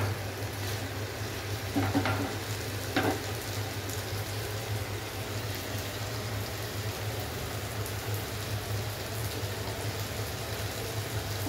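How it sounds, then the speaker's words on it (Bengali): Rice is stirred together with chicken in a pot for a one-pot keema pulao. The result is a soft, constant sizzle and hiss, and two brief scraping strokes come early. No one speaks. "চালটা আমি চিকেনের সঙ্গে মিশিয়ে দিচ্ছি।"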